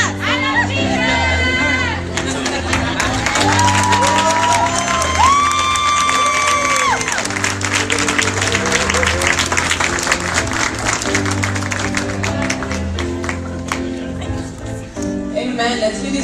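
Crowd applauding and cheering for graduates at a church gathering, a dense steady clatter of clapping with shouts over a loud backing of music, with children's voices mixed in throughout.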